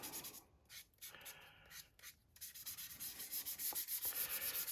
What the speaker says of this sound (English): So out with our grey sponge sander.